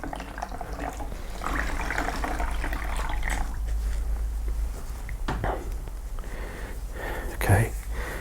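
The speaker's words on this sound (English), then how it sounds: "Wring it out." Water pours and splashes steadily as a soaked cloth is wrung out over a basin during steam shrinking of leather shoes, close and continuous, with a brief voice underneath.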